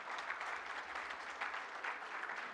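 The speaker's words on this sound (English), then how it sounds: "Let's welcome him with a round of applause" Audience applause for New Zealand Prime Minister Christopher Luxon at the Kiwi Indian Hall of Fame Awards 2024, a steady dense wash of clapping from a large hall crowd, even and sustained throughout without pause.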